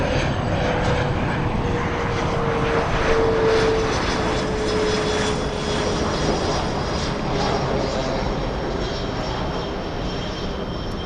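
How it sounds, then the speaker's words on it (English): A Delta airliner passes overhead near Los Angeles airport, a loud continuous engine roar that holds steady across the whole stretch with a slowly falling whine. "right now flying directly above us is Delta 312 out of Minneapolis flying to Honolulu"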